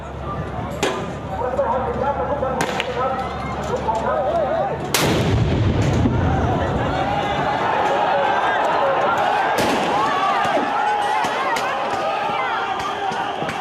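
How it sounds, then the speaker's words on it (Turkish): A hand grenade explodes near police during clashes in Bangkok, a loud blast about five seconds in, preceded by sharp gunshot-like cracks and followed by further bangs and crowd noise. "Bomba o an infilak etti."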